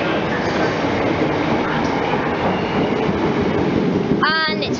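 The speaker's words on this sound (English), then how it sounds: "Approaching platform number one is the 1549 Southwest train to Waterloo" A South Western Railway train bound for Waterloo rumbles into platform one at Richmond, a loud continuous roar of wheels and carriages close by, ending with a sharp rising squeal of brakes.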